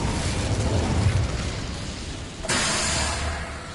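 The Incendio fire spell in Hogwarts Legacy bursts out as a broad, roaring whoosh of flame, loud and sustained, swelling again midway with a second blast, without any talking.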